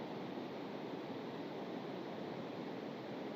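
Waterfall at a woodland chapel, a steady, dense rush of falling water filling the space evenly, with no voices or breaks.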